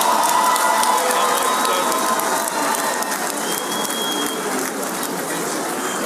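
Applause from a large audience at a formal public gathering as Chief Olusegun Obasanjo is welcomed, a dense, steady wash of clapping with faint crowd noise underneath, holding level throughout.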